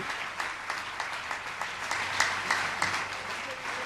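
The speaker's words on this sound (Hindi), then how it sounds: "आइएगा अमित जी और आपकी तालियां उत्साहवर्धन करेंगी" At a Jain gathering in Ashoknagar naming the new executive committee of the Lokodaya Tirth, the audience claps to welcome Amit Jain, a steady patter of many hands with distinct individual claps and faint talk underneath.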